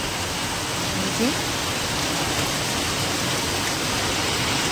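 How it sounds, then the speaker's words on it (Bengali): Heavy rain pours down at a roadside, a loud, dense, unbroken hiss of falling water that fills the whole scene from start to finish. "ভীষণ বৃষ্টি হচ্ছে"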